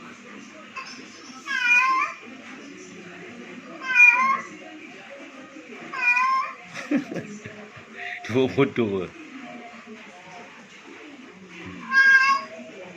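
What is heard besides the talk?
recorded meow of a female cat in heat calling a male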